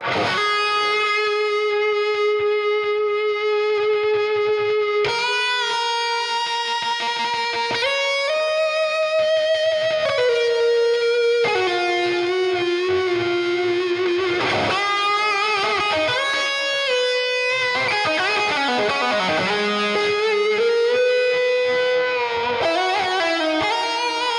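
A distorted electric guitar, a Gibson Greeny replica, plays long sustained notes in an 80s rock tone that ring out with heavy reverb, shifting pitch slowly through a melodic phrase, loud and clear with no talking.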